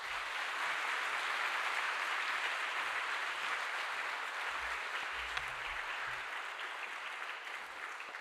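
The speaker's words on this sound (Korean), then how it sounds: "그런 뜻에서 박수로 모시도록 하겠습니다" A church congregation applauds to welcome a visiting speaker at an evening revival service, steady, dense clapping filling the hall at an even level for the whole stretch, with no voices over it.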